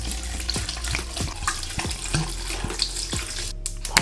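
Orange juice poured into a big jug of sliced fruit for a sangria mocktail, a close liquid splashing and gurgling stream with scattered drips and clinks, no voices.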